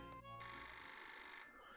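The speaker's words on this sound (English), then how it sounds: "Do this by clicking on the ringing phone in the shop." A phone rings in the shop of the pizza business video game Supreme: Pizza Empire, a bright electronic ringing tone that holds steadily for over a second before fading, with no talking.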